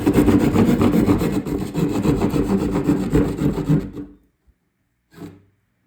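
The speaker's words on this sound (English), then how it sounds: "I just really got to poke a hole in the wall real quick" A homemade jab saw rasping into a wall, a loud continuous gritty scraping for about four seconds, then a short pause and one brief final scrape.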